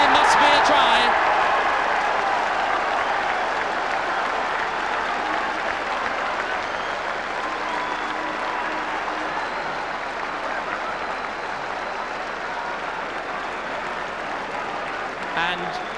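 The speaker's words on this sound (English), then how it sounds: "the crowd rising to a brilliant individual piece of running by Dave Duckham, who fed John Barton inside," A stadium crowd at a 1973 RFU Knockout rugby match between Coventry and Bristol cheers and applauds a try, a broad roar loudest at the start and slowly fading under a commentator's voice.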